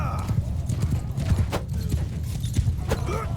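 Galloping horse hooves in the medieval combat game Mount & Blade II Bannerlord, a rapid clip-clop rhythm over battle noise, with a brief whinny and a voice talking over it.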